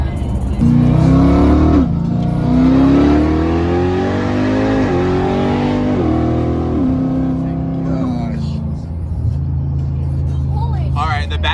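A fast SUV accelerates hard in sport mode, its engine note climbing through rising revs with brief dips at gear changes, loud and close from inside the cabin, while people react over it.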